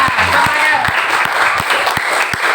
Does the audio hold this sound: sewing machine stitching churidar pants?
no